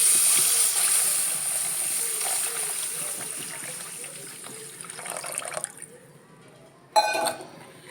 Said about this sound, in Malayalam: അപ്പോൾ ഇതിൻ്റെ അകത്ത് നമുക്ക് ഇച്ചിരി വെള്ളം ഒഴിച്ച് കൊടുക്കാം.